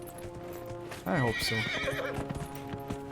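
A horse in the game Dragon Age Inquisition whinnies loudly and close, with hoof sounds and game ambience around it, while a player speaks briefly over it.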